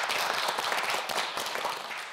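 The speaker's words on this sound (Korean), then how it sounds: "여러분 박수 좀 보내주세요." A studio audience at a televised student quiz show breaks into applause, a dense, bright, steady clatter of many hands sustained for the whole moment with no voices over it.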